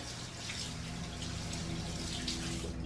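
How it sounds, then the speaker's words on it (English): Running tap water streams steadily into a sink as an eyebrow tool is rinsed under it, a continuous close splashing hiss throughout. "And then what I do is I just run it under water"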